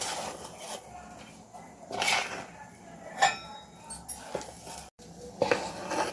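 Ragi idli batter being mixed with salt in a bowl, quiet irregular squelching and scraping with a few light clinks of utensil against the dish, close and soft, no talking.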